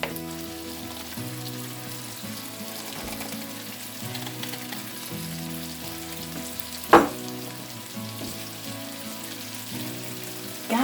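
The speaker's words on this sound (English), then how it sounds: "onions frying up in a skillet" Onions fry in a skillet with a steady, soft sizzle, joined by a sharp clatter near the middle and light stirring sounds under a faint background tone.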